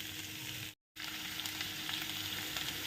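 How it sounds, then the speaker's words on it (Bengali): Carrots and beans fry in a hot pan alongside bhetki fish, a continuous close, bright sizzle broken by one brief cut to silence before the crackling resumes. "গাজর, বিনস তিনটেকে একসঙ্গে ভেজে নিচ্ছি।"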